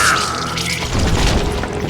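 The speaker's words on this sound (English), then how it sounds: "I was just glad I had Deputy Bob's mean-ass shotgun" A heavy shotgun blast booms in the western video game Call of Juarez: Gunslinger, one loud deep report rolling into a rumbling tail.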